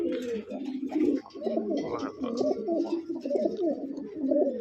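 A pair of pigeons coo close by in soft, rolling, repeated phrases that run almost without a break, with a faint voice in the background.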